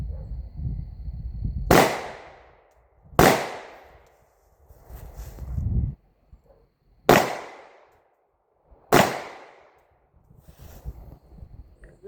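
Four loud, sharp pistol gunshots at a shooting range, spaced irregularly with short ringing decays between them, fired during a right- and left-hand transition drill at a barrier, close and with no talk.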